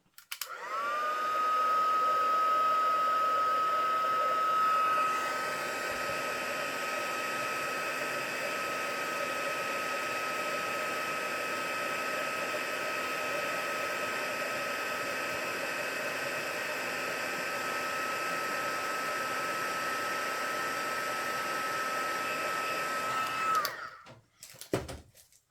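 A heat gun blows steadily for about twenty-three seconds, melting embossing powder on a handmade greeting card. The hot-air roar is loud and constant, with a brief whistle at the start, then it shuts off.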